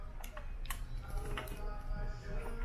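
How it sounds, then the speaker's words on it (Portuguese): Small clicks of technical equipment on board a Costa cruise ship sound close and sharp. A few distinct ticks rise over a low hum and quiet background voices. "Esse é o clique"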